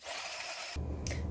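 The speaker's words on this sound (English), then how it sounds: "I was using the food processor instead of chopping" Mini food processor chopping garlic and ginger, a harsh motor whir that shifts abruptly into a louder, heavier grinding buzz partway through, close and brief with no talking.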